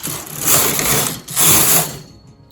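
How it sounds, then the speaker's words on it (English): A knitting machine carriage sweeps twice across the needle bed while cables are being worked, giving two loud, close mechanical whirring passes with a short gap between them before stopping. "I'm just going to go ahead and push those needles forward and knit 2 rows"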